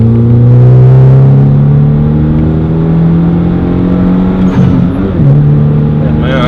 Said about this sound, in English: we'll do a little 3rd gear roll on,